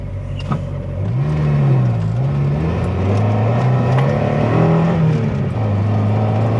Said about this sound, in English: It's great to drive this thing again.